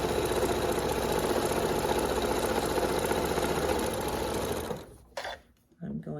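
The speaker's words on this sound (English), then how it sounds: "I'm going to sew all the way to the edge here, and I'm going to back stitch" A sewing machine stitches steadily along a quilted fall table runner, a close, even mechanical whir for nearly five seconds before it stops, leaving a brief quiet with a few small handling sounds.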